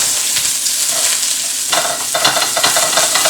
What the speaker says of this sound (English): as you can see quickly, our onion is cooking.